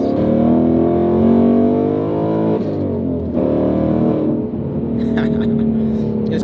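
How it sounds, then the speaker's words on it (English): Ford Mustang engine revving under acceleration, a loud, close, deep rumbling tone that rises and swells in pitch, eases off briefly, then climbs again with a sustained growl. "But it's a Mustang, and it sounds like this when you step on the gas."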